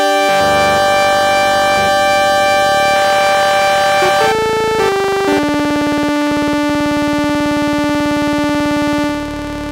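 A Roland JX-03 Boutique synth drones loud, dense sustained tones while its DCO1 tuning is swept, so pitches hold, then step and shift, with beating harmonics for nearly ten seconds before fading.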